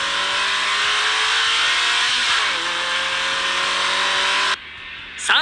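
A Toyota MR2 of the 1986–99 generations accelerates on a racing circuit, its engine note climbing loudly, dipping briefly at a gear change and rising again before cutting off abruptly.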